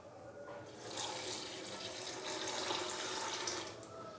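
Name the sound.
water poured into pressure cooker with chicken liver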